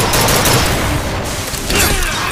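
Rockets exploding in the video game Bioshock Infinite on hard difficulty, a dense, loud barrage of blasts and crackling gunfire that fills the whole moment with no pause.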